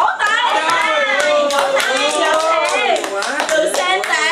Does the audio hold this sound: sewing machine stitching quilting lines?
no